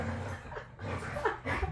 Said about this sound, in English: Don't mind the dog fight in the background.